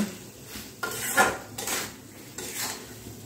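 Raw mango pieces with their skins are stirred with jaggery in a pan for a sour, hot and sweet pickle, giving several scraping, clinking utensil strokes against the metal, close and moderately loud, with no talking.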